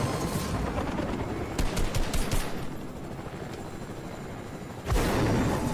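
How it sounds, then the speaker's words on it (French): Gunfire in the video game Fortnite: a few bursts of rapid automatic shots rise out of a noisy, rumbling game soundscape, with another loud burst near the end. "Ça tire quelque part, gros."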